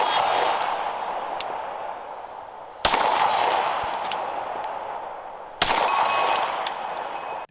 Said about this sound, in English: able to shoot quickly, able to take shots out to 100 yards with it without much issue